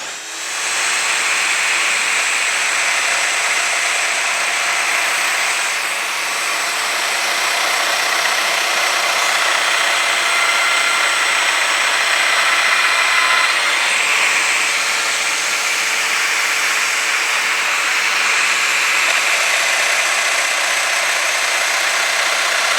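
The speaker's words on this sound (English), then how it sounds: "so I can just go boom, boom, boom, boom, boom, boom right down the line and cut all of my mortises on these" A power tool cuts a row of mortises into ganged wooden screen door rails. It makes a loud, steady, continuous whine that holds for the whole stretch with only slight swells, and no one talks.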